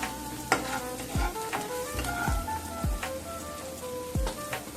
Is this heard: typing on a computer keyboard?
no